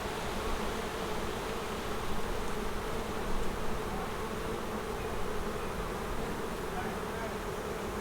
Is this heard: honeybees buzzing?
yes